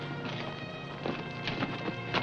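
Horse hooves clip-clop in an uneven rhythm at moderate distance, with faint background noise and no clear speech.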